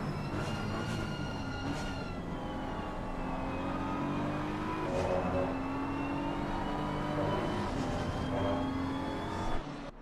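BMW race car engines in Assetto Corsa Competizione at Mount Panorama, a steady high-revving drone with shifting pitch as cars hold speed and pass, continuous and fairly loud with no talk.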